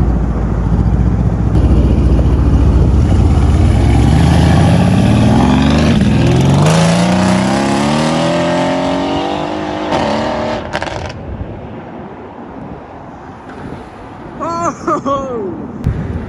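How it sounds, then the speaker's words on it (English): A loud Mercedes C63 S engine with new downpipes revs up, its pitch climbing steadily before easing off, with a throaty exhaust rumble throughout and brief voices near the end. "We're gonna go somewhere we can take off and rev it a little bit"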